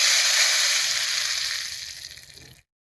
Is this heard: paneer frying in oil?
yes